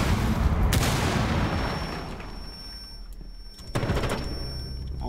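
A grenade in a shooter video game goes off in a loud, close boom that rolls away into a long decaying rumble, followed by a second sharp blast and more low rumbling.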